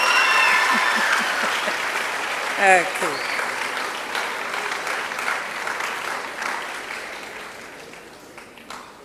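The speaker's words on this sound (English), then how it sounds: "Clap for yourself." Students at the 13th R. P. Baffour Memorial Lecture applaud, a broad steady clapping that slowly tapers off, with a voice speaking briefly over it early on.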